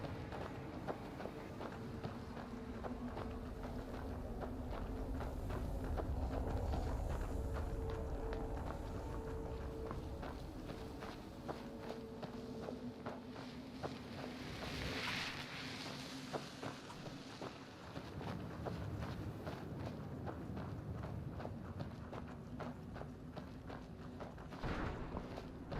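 Horse hooves clip-clop in a steady running rhythm in the video game Skyrim, fairly faint and continuous over a low ambient drone, with no talking.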